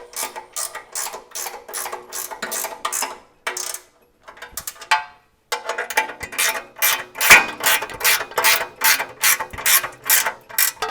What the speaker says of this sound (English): we're going to now hand tighten all these nuts and bolts